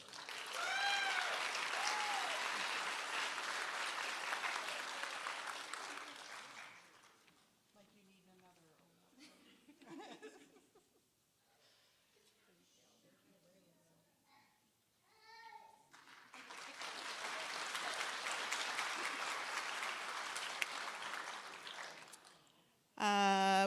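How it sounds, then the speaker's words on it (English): An audience at a technical institute graduation and pinning ceremony claps for an award recipient in a long, steady round of applause, then a speaker talks over a quieter hall, and a second round of applause follows. "Can everyone please, one more time, just give them a round of applause?"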